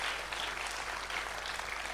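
A crowd gives hearty applause at a Tamil speech event, with steady dense clapping throughout at moderate loudness.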